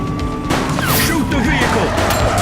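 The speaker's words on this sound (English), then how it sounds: "He's shooting!" Rapid gunfire bursts from a police shooter video game set in a city, loud and dense, with crashing impacts and whooshing effects layered throughout.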